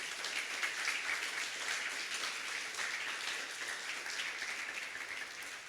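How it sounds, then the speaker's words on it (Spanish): A church congregation applauds together in a steady, dense wash of clapping that holds for several seconds, spread across the room and fairly loud, with no speech over it before it starts to ease off. "¿Por qué no le das un fuerte aplauso al Señor por eso?"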